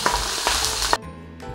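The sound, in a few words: chicken fat frying in a wok on low heat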